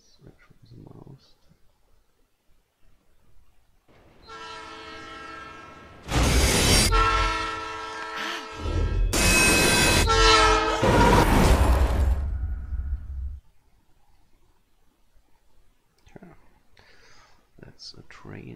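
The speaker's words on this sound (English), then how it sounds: "That's a train coming." A train approaches in Life is Strange and sounds its horn in long, loud blasts that swell and hold for several seconds, then fade, with rail rumble underneath and quiet talk before and after.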